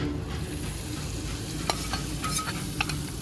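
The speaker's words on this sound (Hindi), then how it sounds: "बाकी जो हमारा तड़का बचा है दाल मखनी पर डाल देते हैं।" Steady sizzling hiss of hot tempering oil poured onto dal makhani, close up, with a few sharp clinks and stirring scrapes over it.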